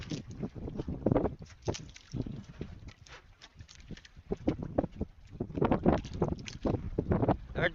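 Wind and waves batter a small fishing boat at sea at night, with gusty rushing and irregular sloshing surges close by, steady throughout with little talk.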